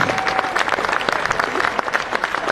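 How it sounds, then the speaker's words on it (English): A large crowd applauding loudly and steadily at a drag racing awards ceremony, dense clapping filling the whole stretch with a few cheers mixed in. "One very big round of applause"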